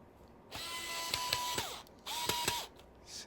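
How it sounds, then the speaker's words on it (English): An electric screwdriver buzzes in two short, close bursts as M3 screws are driven into the parts of a Tippy Marble Clock, with small ticks and clicks between runs. "And then you can screw those into place."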